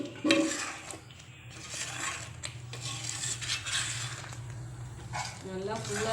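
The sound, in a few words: stirring a moong dal, semolina and jaggery sweet in a pan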